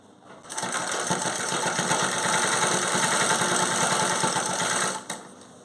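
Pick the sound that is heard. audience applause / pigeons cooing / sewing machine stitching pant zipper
sewing machine stitching pant zipper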